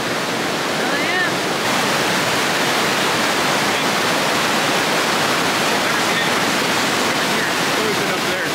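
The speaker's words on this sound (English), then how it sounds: "Go over to the right here, you see the falls." Bog River Falls roaring steadily beside a lake, a loud broadband rush of falling water that fills the whole span without letup, close to the listener.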